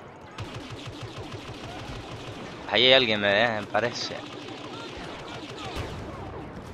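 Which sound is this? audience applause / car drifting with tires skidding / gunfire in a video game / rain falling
gunfire in a video game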